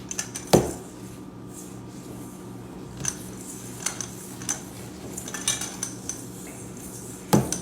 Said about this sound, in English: Now we're just gonna mix it all together.